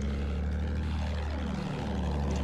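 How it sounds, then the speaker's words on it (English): The engine of an attack plane in the Battlefield 1 video game drones loudly and steadily, with a propeller-like rumble and a pitch sweeping downward as it passes. "That's the attack plane."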